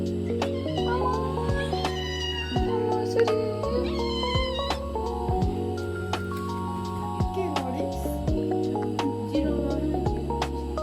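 A cat meows repeatedly in drawn-out, wavering cries, loud and close, over a background of steady electronic tones.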